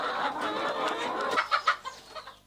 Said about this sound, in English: Njogu is a poultry farmer keeping chicken for both layers and broilers in Gitaru region, Kiambu County.